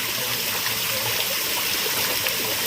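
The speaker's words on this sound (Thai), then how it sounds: "อันนี้น้ำในลักษณะก็จะไหลแบบนี้ถ้าสมมติว่าน้ำยังไม่ถึงท่อนะคะ" Water from a garden fountain pond flows steadily, a dense close rush of trickling and splashing that runs alone and unbroken throughout.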